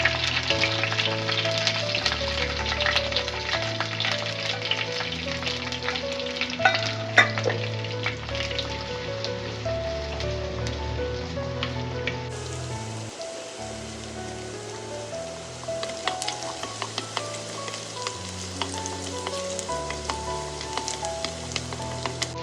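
Shallots and curry leaves frying in oil in a pan for Kerala fish curry, a steady bright sizzle running throughout, close and alone, with no talk.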